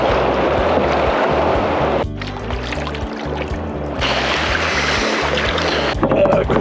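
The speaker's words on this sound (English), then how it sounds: "Doing some little play boating in the surf." A gear-loaded sea kayak is paddled in the surf near rocks, with loud rushing water, splashes and breaking waves close by, rising and falling in rough bursts.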